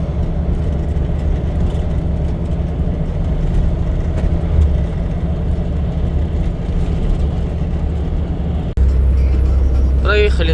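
A truck travelling a long-haul highway route from Ulan-Ude to Yakutsk, heard from inside the cab as a steady, loud low engine drone and road rumble that continues without a break, with a brief dip near the end.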